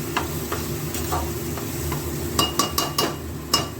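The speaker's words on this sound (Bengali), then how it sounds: "এবার একটু নাড়িয়ে চাড়িয়ে মিশিয়ে" A spoon stirring lentil dal with turmeric in a pot, soft scraping under a low simmer, then a few sharper taps against the pot toward the end.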